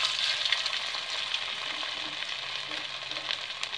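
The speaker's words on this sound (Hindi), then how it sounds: "अभी हमारा ऑयल गर्म हो गया है। अभी हम इनको फ्राई कर लेंगे।" Potato balls for aloo kofta deep-frying in hot oil give a steady, close sizzle with a dense bubbling hiss throughout, and no one is talking.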